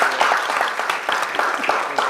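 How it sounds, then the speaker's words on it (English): A crowd applauds together at an Arkansas Martin Luther King Jr. Commission event, a dense, even round of clapping from many people that keeps going without a break. "So give yourselves a round of applause."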